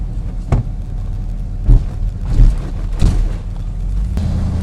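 A Facel-Vega HK 500 engine heard from inside the car while driving, a steady low rumble with brief surges and dips as the gears shift, under light road noise.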